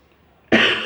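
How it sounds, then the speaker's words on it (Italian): A single sharp cough from a man with a cold, close and loud, breaking in abruptly after a moment of near silence. "Scusate, tosse, raffreddore."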